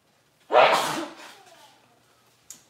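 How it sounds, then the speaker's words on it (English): A single loud, close human sneeze in a kitchen while cooking shrimp creole and Cajun fried fish, a sharp burst that trails off, followed by a brief faint noise. "I got to sneeze, y'all."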